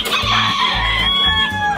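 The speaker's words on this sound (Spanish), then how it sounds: "Estas gallinas son pintas de punky" Pinta de punky hens at a poultry breeding farm cluck in a loud, close sequence of low, repeated calls, with higher bird cries layered above.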